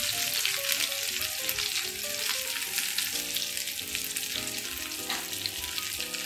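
Stuffed tinda sizzle in a pan over a low flame while being stirred, with a steady frying hiss and tonal music playing underneath.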